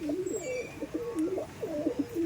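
Giribaz pigeons coo in a steady, low, throaty warble, fairly close, with soft repeated rolling calls and faint chirps in the background.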